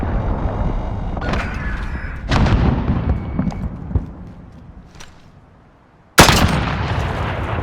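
Cruise missile strike in the Modern Warfare video game, heavy booming blasts and rumbling impacts that fade into quiet before a sudden loud explosion near the end.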